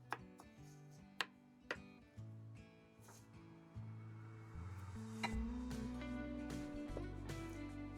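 Pineapple and onion chopped on a board at a camp griddle, with a few sharp, separate knife knocks that sit close and loud over background music and sizzle.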